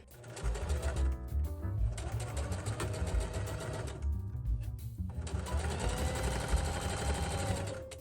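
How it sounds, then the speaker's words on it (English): Sewing machine stitching a zippered fabric make-up pouch, running in loud, steady bursts with brief pauses between stitching runs, close up and without talk. "you're going to move it about 4 inches down and start sewing again"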